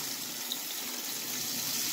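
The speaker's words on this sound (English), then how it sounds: "we're going to add a little bit more water to it." Water pouring steadily into a pot of curry chicken, a continuous soft splashing stream with no voices.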